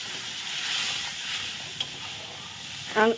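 Spices and paneer masala hiss and sizzle steadily in hot oil with a splash of water, a broad close frying sound that swells briefly near the end.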